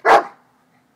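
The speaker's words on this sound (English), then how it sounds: "Make him bark. I want to hear his bark." A single sharp, loud dog bark rings out close by and fades quickly into silence.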